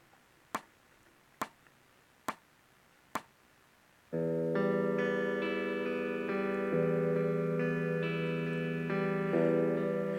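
Four sharp ticking clicks, then a loud, sustained electric guitar strums open strings in a repeating pattern of ringing notes with effects.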